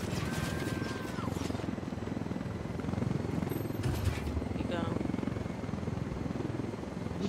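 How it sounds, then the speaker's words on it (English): Video game helicopter from the Unidad forces chasing players in Bolivia, its rotor thumping as a steady, loud, continuous drone while people talk over it. "There's a Unidad helicopter after us."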